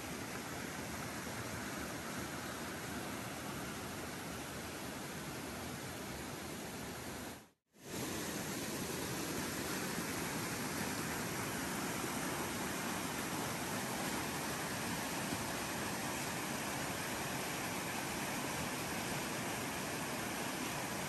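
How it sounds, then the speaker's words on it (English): A waterfall at a stream with small swimming holes, reached on a cold-weather motorcycle camping trip, gives a steady, loud, unbroken rush of falling water with a brief dropout partway through and no talking. "So here's the waterfall that we came down to."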